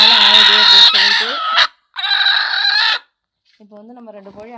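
Village hens kept for brooding eggs cluck and call loudly and close by in three separate bursts, with short gaps of silence between them.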